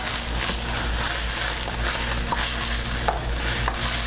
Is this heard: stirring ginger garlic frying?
yes